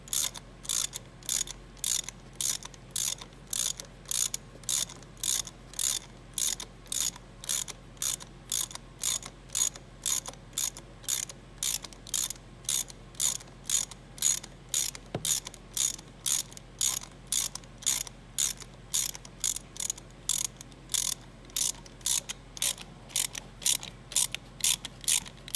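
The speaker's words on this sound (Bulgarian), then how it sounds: "Нека развиваме болта, всъщност да видим какво се случва и откъде идва проблема." Small hand ratchet loosening a bolt on an Audi S-tronic gearbox, a close, crisp clicking repeated in an even rhythm of about two strokes per second throughout, with no talking.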